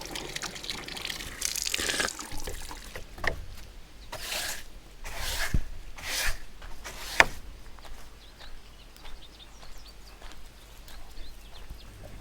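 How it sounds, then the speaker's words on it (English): Water runs from a sink tap in an outdoor forest house built from twigs and branches, coming in several loud splashing bursts between quieter stretches of trickling and handling noises, with no talking. "Then it gets diverted around to the sink here. And you have water at the sink"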